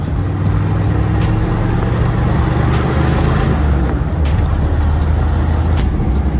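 A Jeep CJ7 on a test drive gives a loud, steady engine drone and road rumble from inside the vehicle, with a few faint clicks and rattles over it.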